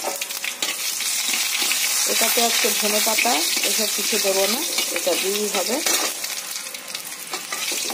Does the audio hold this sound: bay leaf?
yes